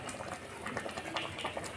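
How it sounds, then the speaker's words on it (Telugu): Thummi leaf curry keeps bubbling in a pan just after the stove is turned off, a close, continuous soft simmer with irregular popping bubbles and no voices. "స్టవ్ బంద్ చేసిన తర్వాత కూడా ఇక ఉడుకుతుంది చూడండి"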